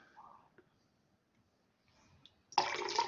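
After a couple of quiet seconds with faint soft sounds, water suddenly starts pouring or running nearby, a loud steady splashing rush that continues to the end.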